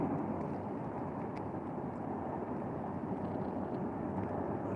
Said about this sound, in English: Planes, my goodness, are those planes coming and going?